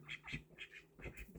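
Faint, raspy duck quacks come in a quick run of several calls, close together in a short burst.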